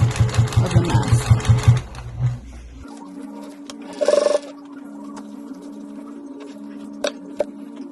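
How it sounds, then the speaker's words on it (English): A sewing machine stitches along the edge of an embroidered face mask, its rapid rhythmic needle chatter loud and close for about two seconds before stopping, followed by a quiet room with a short whir and small handling clicks. "we're just sewing all along the edge"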